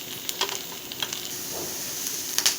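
Quiet crackling and sizzling of mustard seeds popping in hot oil, with small sharp pops scattered over a soft steady hiss.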